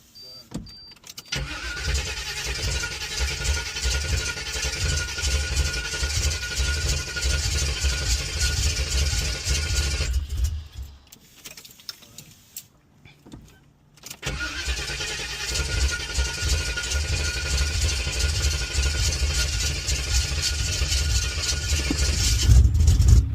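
A Chevy engine cranks and catches, then idles roughly and loudly for several seconds. It cuts out, goes quiet briefly, then fires again and idles on steadily, with voices talking faintly now and then.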